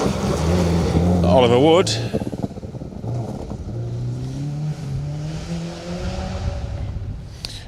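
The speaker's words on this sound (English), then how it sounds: "Here's the Subaru Impreza." A Subaru Impreza rally car accelerates along a rally stage at Greystoke, its engine rising in a loud revving climb before fading into the distance under a commentator's voice.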